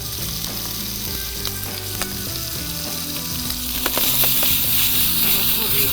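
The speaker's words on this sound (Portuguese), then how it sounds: "Um bocadinho de azeite. Agora sim juntamos um bocadinho de alho." Chopped garlic sizzles in olive oil in a hot pan during a bread-and-recipes cooking class, a loud continuous crackling fry with faint stirring clatter.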